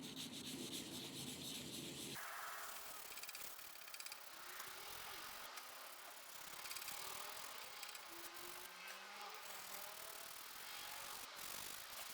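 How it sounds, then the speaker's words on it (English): Fine P600 sandpaper scuffing the surface of an Epiphone guitar headstock, a soft, steady rubbing rasp that continues for the whole stretch, close and fairly quiet with no talking. "Now I've got a little piece of P600 that's very fine, gently just scuffing the surface up."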